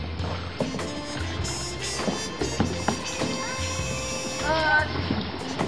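Paddles dip and splash around a canoe on a creek, with soft water knocks and drips under frequent chatter from the people aboard.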